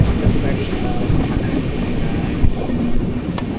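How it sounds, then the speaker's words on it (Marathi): Loud, steady low rumble of a train pulling out of a station in Ratnagiri, heard from inside, with rattling and a brief clunk partway through. "स्टेशनमधून ट्रेन सुटले"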